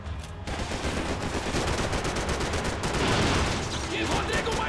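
Continuous heavy gunfire in Max Payne 3, overlapping rapid shots crackling close and loud throughout, with a brief quieter start before the barrage.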